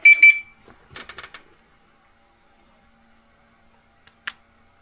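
Car alarm system on a 1976 BMW 2002 gives a short double beep to signal it is armed, a bright electronic chirp at the start, followed by faint clicks and a brief chirp later in an otherwise quiet garage.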